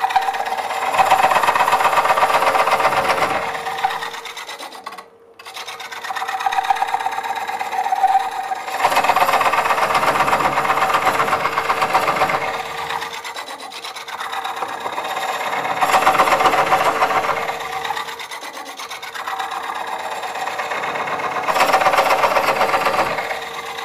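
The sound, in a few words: wood lathe coring bowls with Woodcut Bowlsaver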